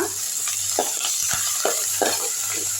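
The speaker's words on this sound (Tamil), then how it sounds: "நல்லா வதக்கி விட்டுருங்க வெங்காயமும் பூண்டும் நல்லாவே வதங்கிருச்சு" Onions, garlic and curry leaves sauté in hot oil with a steady sizzle, broken by several scraping stirs of a spoon in the pan.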